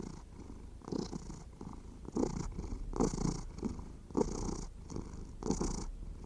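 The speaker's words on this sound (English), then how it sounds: "A contented kitten purrs rhythmically and steadily like this." A contented kitten purring in a steady, rhythmic cycle of soft rumbling pulses, close and clear with no other sounds.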